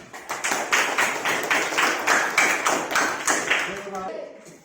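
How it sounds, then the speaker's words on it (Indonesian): Classroom students clap together for a group after its presentation in a lesson, a dense run of rapid hand claps that tails off near the end, with a voice entering at the close. "tepuk tangan untuk kelompok 1"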